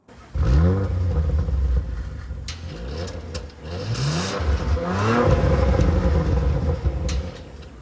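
An Audi RS5's 2.9-liter twin-turbo V6 starts with a sharp burst and settles into a deep rumble, then revs several times with rising, throaty surges, loud and close.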